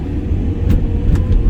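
A 2010 Volkswagen Passat Highline 1.8 TSI with a turbocharged petrol engine and manual gearbox drives along, its steady low engine and road rumble loud and close, with a few brief higher whooshes passing.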